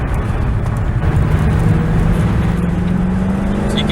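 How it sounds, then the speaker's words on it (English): The V8 engine of a Mercedes C63 AMG 507 Edition drones loud and close from inside the car, with a deep rumble and a low tone that rises steadily under acceleration. "So you can hear that, the V8 engine just pushing on the car."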